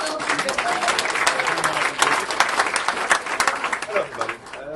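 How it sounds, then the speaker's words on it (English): An audience at a Coolblue design-system evening applauds a speaker introduced on stage. The dense, steady clapping of a sizeable crowd runs throughout, with voices audible over it. "So give a warm applause to Chris with his talk"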